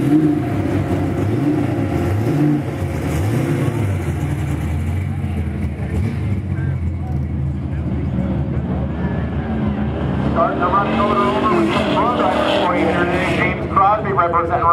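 A race car makes a run on an autocross course at a Goodguys event in Scottsdale, its engine droning and revving steadily throughout, with rising and falling pitch as it changes speed. An announcer talks over it the whole time.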